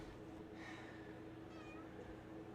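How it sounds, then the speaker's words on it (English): A cat meows a couple of times, soft and fairly close, against a steady background hum. "Don't meow at me."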